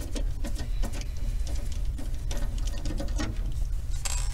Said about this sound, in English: all you need to have is a Phillips screwdriver to remove the two screws